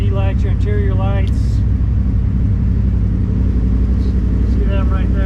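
A 2017 Polaris RZR 1000 Turbo side-by-side engine running, a loud, steady low rumble close by, with a brief voice heard over it at the start.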